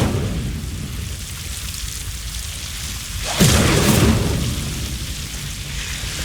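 Incendio fire spell cast in Hogwarts Legacy, a sudden whooshing burst of flame rising over a steady rain-like ambient hiss, then fading back.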